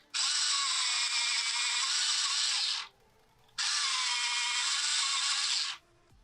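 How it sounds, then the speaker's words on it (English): A soft 6B coloured pencil is sharpened in two separate whirring bursts of about two and a half seconds each, with a short quiet gap between them. "so let's sharpen this real quick"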